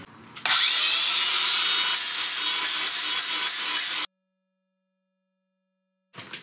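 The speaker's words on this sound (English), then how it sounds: "I'm going to grind off all this weld and I'm going to try and re-weld everything" An angle grinder grinds old weld off a cracked Hayward & Scott exhaust manifold, a loud sustained whine with rough scraping and a few rhythmic bursts near the end, then a sudden cut to silence before a brief restart.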